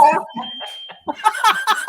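Kitchen smoke detector going off while food burns on the stove, a thin steady electronic tone sounding beneath loud, excited conversation between several people.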